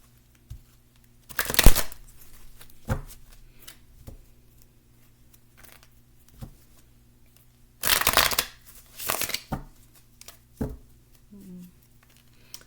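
Tarot cards being shuffled in several quick rustling riffle bursts, close and crisp, separated by quiet pauses with faint handling sounds.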